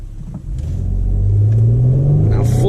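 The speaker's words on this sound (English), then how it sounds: "Full throttle that time." A 2005 Toyota Highlander V6 pulling away at full throttle, its engine note rising steadily in a loud, close, heavy rumble as it accelerates, heard from inside the cabin.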